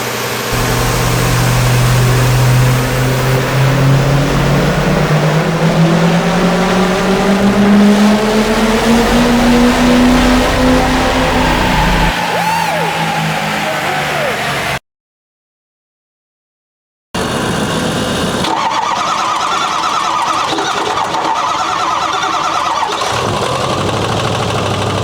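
A heavily modified 6.0 Powerstroke diesel truck engine with a failing stock bottom end runs loud and close, revving with rising pitch, cutting out briefly, then running rough again with a harsh mechanical knock.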